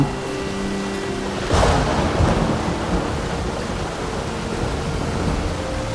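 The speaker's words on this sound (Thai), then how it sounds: "เสียงฝนไกลออกไป" Steady rain pours in a dense wash of noise, with a low rumble of thunder rolling through partway.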